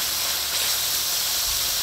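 Garlic and pork sizzling in a hot wok for a Thai stir-fry of onion flowers, giving a steady, bright hiss close up with no pauses.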